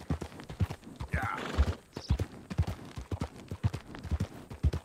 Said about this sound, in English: I can't ride this horse too hard because it's not ours